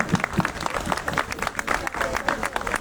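A crowd applauds at a book presentation at a fair: a short burst of close clapping that blends into a murmur of voices, with speech partly over it.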